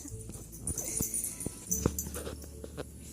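Dogs whimpering and yipping eagerly in a kitchen before breakfast, several soft whines and short squeaks scattered over a low room hum, close by and fairly quiet.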